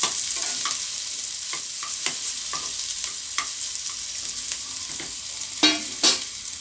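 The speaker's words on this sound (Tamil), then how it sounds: "இப்போ இதை நல்லா நம்ம வதக்கிக்கலாம்." Garlic and vegetables sauté in a pan under a quiet steady sizzle, with a series of sharp spoon clacks against the pan and a couple of louder stirring scrapes near the end.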